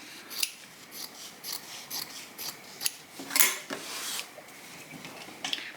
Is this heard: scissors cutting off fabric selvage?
yes